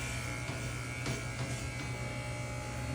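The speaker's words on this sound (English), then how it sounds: "I'm just gonna shave upwards" Electric hair clippers buzz steadily as someone shaves their own hair upward, a close, continuous motor drone with slight shifts in tone as the blades move through the hair, and no talking.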